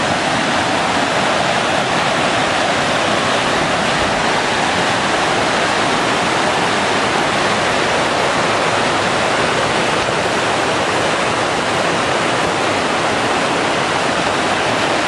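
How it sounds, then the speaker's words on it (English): A high, swollen river rushes past at close range, a loud, steady broadband roar of churning water that never lets up, with no voices over it. "The river's up high."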